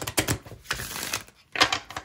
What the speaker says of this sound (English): So I shuffle each of the two piles.